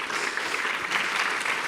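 An audience at a film Q&A session claps for the cinematographer, a short, even burst of steady applause from the seated crowd.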